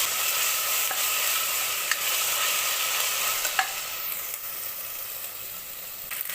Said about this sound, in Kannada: ಈಗ ಫ್ರೈ ಮಾಡಬೇಕಿದೆ ಚೆನ್ನಾಗಿ.